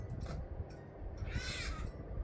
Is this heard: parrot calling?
yes